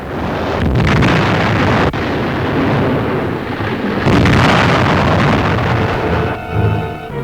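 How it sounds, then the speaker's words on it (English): Continuous roaring, crackling rumble with heavy low-end booms and sharp bursts throughout, explosions amid a raging fire aboard the burning aircraft carrier USS Franklin, loud and dense. "The toll of casualties grows as explosions continue."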